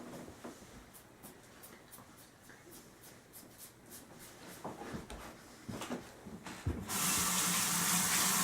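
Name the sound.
shave soap rinsed out of razor under running tap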